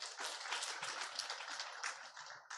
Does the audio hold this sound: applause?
yes